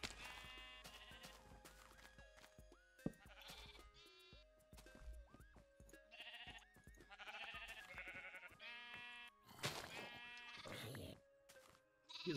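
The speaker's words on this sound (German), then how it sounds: "Hier sind schon wieder viele Schafe unterwegs." Several sheep bleat repeatedly in the Minecraft video game, their calls rising through a busy mix with a voice talking over them.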